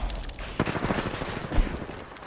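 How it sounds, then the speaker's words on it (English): Gunfire in an Apex Legends battle, a rapid burst of shots that stays close and loud across the moment, with sharper cracks at a few points. "I am taking fire, sir."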